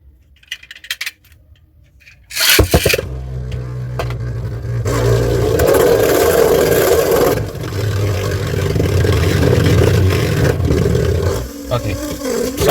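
Imperial Dragon Beyblade from Beyblade Burst GT spinning in left spin on a stadium, a steady whirring rattle that runs loud for several seconds after a sharp launch, with a brief clatter near the end.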